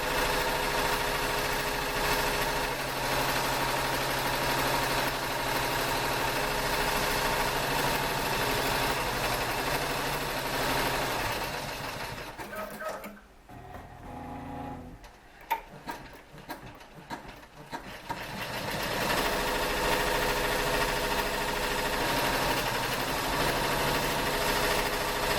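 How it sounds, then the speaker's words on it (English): A nearby embroidery machine stitches out a baseball design with a fast, even mechanical chatter, pausing for a few seconds midway with scattered clicks, then resuming at full pace. "I'm going to let this stitch out."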